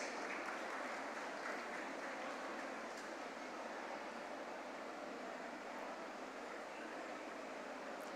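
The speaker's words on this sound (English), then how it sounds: "please give them a big round of applause for their outstanding achievement" A school audience applauds students honoured for citizenship awards at an achievement ceremony; continuous, even clapping fills the whole stretch as a soft, steady wash at moderate distance.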